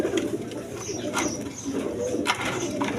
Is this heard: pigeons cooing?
yes